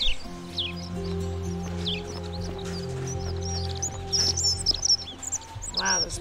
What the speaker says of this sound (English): Wow, those birds are piercing.